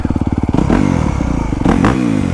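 A 2025 Honda CRF250R Works Edition dirt bike with an Akrapovic exhaust pops and thrums up close, chattering at idle before rising into a deep, throaty rev, then another quick blip.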